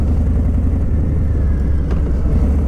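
Harley-Davidson 2020 Low Rider S motorcycle running with a steady loud low exhaust rumble throughout, a brief sharper pop around the middle that may be the backfire, no talking.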